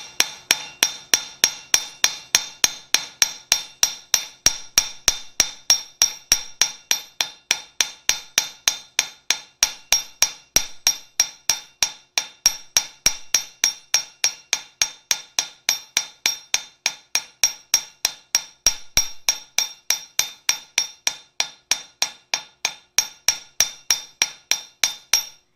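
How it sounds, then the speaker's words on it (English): A hammer strikes metal on an anvil in a steady, rapid rhythm, dozens of sharp ringing blows close by and continuing without pause, with no talking. "I'm going to just hammer it up"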